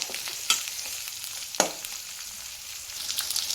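Mustard seeds fry in hot oil with a steady crackling sizzle, punctuated by two sharp pops or spoon taps, close and moderately loud with no voices.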